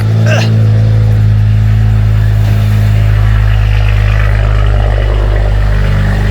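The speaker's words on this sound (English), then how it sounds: "Back up and running, boys. So my Jippo cable thing works. The car's running." A BMW 335i with a single turbo conversion and methanol setup idles with a loud, steady low drone, while someone talks over it close to the microphone.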